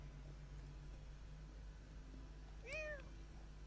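A single short cat meow in The Sims video game, drawn out and slightly descending, rising clearly above a low steady electronic hum.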